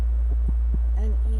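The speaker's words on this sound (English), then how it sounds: "Yeah, that's my air conditioner." An air conditioner gives off a steady low hum throughout, with soft intermittent thumps and a faint murmuring voice over it.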